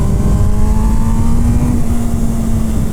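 An MV Agusta Brutale 1000 RR with a 208 hp inline-four engine, revving loud and close, holding a steady high-pitched howl with a gradually climbing tone throughout.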